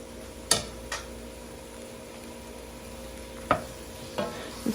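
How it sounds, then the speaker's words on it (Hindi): A spoon stirs spiced potatoes frying in a pan for vegetable samosa filling, giving a few sharp scrapes and clinks spaced out over a low, steady sizzle, with no talking. "अभी हम चम्मच हिलाते रहेंगे।"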